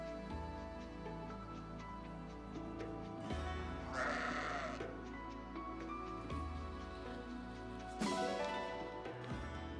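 Sheep bleat in Fire Emblem Engage, with repeated short bleats rising over a looping game music track with a steady low bass pattern.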